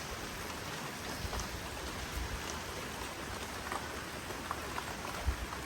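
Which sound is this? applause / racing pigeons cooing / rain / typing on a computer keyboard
rain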